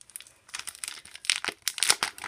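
A paper sticker book crinkles and rustles as it is handled close up, in bursts of crisp crackling that grow louder toward the end.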